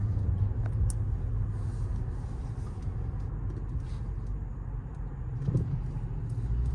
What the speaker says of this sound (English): just instant response with this supercharged V8